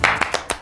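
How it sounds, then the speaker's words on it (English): Four sharp hand claps ring out in a quick, slightly uneven rhythm, close and distinct, from The Conjuring movie trailer. "fans of hide and seek and clapping noises"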